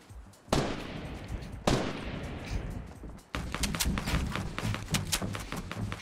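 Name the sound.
gunfire in a video game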